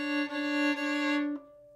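An open string rings on a fiddle in a flat key, a bowed tone held steady with slight swells before cutting off, close and alone.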